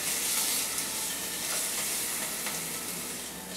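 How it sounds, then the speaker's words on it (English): Meat sears in a hot pan for a holiday dinner, giving a loud, steady sizzle and frying hiss that runs unbroken throughout with no talking. "sear it and sizzle it all the way around"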